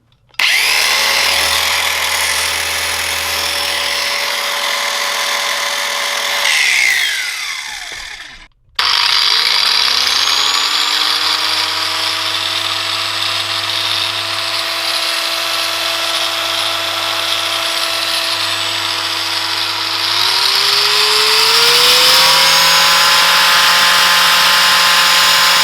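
An Aldi Duro 18V cordless angle grinder with a 115 mm disc runs loudly and close up in a high steady whine, winds down, cuts off, then spins back up and holds, rising once more near the end.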